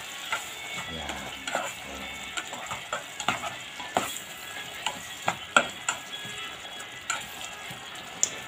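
A spatula scrapes and taps repeatedly against a pan of frying ham, producing sharp rhythmic clicks over a faint continuous sizzle, close by and fairly quiet.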